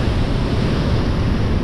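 Fast-flowing mountain river in a valley, a loud, dense roar of rushing water and spray filling the air up close without a break.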